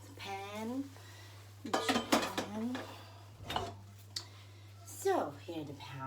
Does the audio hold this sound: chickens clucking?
no